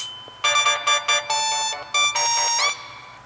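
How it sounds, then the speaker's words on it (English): HTC EVO 4G LTE smartphone powering on, playing a short bright electronic startup chime of several stacked tonal notes in quick succession, clear and close with no talking. "So now we're gonna boot up the phone and see how this goes."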